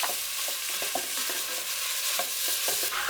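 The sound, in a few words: stirring onions in olive oil with a wooden spoon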